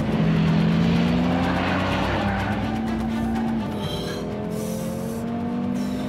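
Race car at high speed on a test track, a loud sustained engine drone with shifting pitch as it revs and changes gear, dominating the whole stretch without talk.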